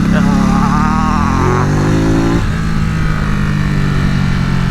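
Ducati Supersport 950 motorcycle engine revving loud and steady during a wheelie, its pitch climbing then dropping, with people talking over it throughout.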